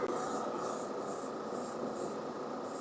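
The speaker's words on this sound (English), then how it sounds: "I got just enough to probably go ahead and spray over the top of them like that" Chrome paint sprays onto a model car in steady pulsing bursts, close and fairly quiet, with a soft hiss between passes.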